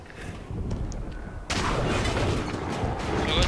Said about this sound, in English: Fireballs.